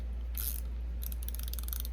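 A small hand wrench tightening a nut on a CNC woodturning project, a quick run of soft metallic ratcheting clicks after a brief scrape, close and quiet over a steady low hum.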